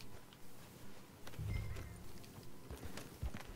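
Horse hooves clip-clop at a steady walking pace in Red Dead Redemption 2, moderately loud over a busy game soundscape with a brief heavier thud near the middle.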